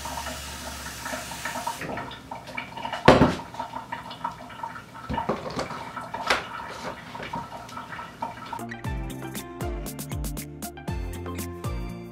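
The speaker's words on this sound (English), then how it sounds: "so let me add some water." Water poured into food in place of buttermilk while a lunch box is prepared in a home kitchen, a brief splashing trickle at the start, followed later by music.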